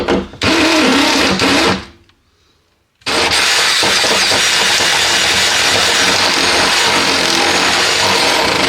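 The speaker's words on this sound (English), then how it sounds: "We are currently drilling holes in the back of my car." A loud power drill whines continuously while drilling holes in the rear of an Audi RS3 car body, cuts out for about a second, then starts again and runs steadily to the end.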